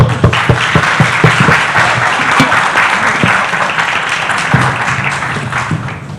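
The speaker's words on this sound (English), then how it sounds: "please join me in applause for my panelists" Loud applause from a conference audience for a panel, a dense burst of clapping that starts strong and slowly thins out.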